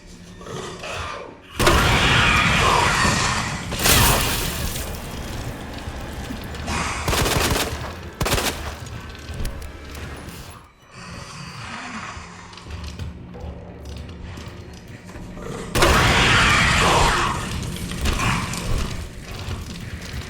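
Claire's grenade launcher in the Resident Evil 2 Remake video game firing at a licker, with loud blasts and mechanical reloading clacks in repeated bursts, separated by quieter stretches of game ambience.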